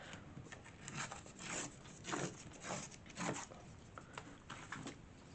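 Old Reader's Digest pages torn by hand along the edge, giving a series of dry ripping bursts of varying length, close and fairly quiet, with no voice.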